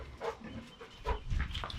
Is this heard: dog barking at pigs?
yes